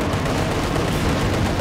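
Tank cannon fire in Company of Heroes 2 comes as a dense, loud, continuous roar of heavy battle fire, with no clear gaps between blasts.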